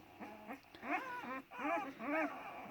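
Purebred black-headed Anatolian shepherd puppies whimper and whine softly nearby in a series of thin, rising and falling cries, a few overlapping, over a quiet background.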